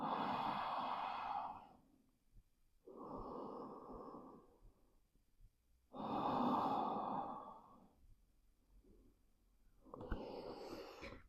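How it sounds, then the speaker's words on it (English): Slow, deep yoga breaths resting in child's pose, four long airy inhales and exhales alternating with quiet gaps, close and soft. "Deep breathing."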